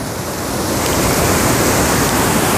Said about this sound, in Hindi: मैं वाटरफॉल की नीचे आ रहा हूँ।